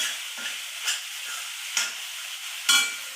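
Sabudana khichdi being sautéed in a pan for a fasting-day recipe, a steady close sizzle broken by several scraping stirs of the spoon at irregular intervals, with no voices.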